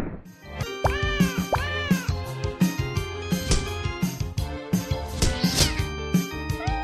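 Cat meowing in the mobile game Bread Kittens, a string of loud, close, high wavering meows and yowls repeating in quick succession over busy game music and effects, with no one talking.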